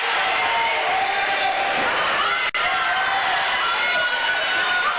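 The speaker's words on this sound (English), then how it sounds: "Hoban crowd is getting energized now." A Hoban high school basketball crowd in a district final keeps up a loud, continuous cheer and roar, briefly cut off midway, with talk in the mix.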